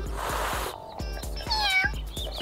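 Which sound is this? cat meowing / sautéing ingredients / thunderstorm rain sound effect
cat meowing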